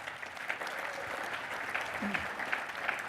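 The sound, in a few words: audience applause at seminar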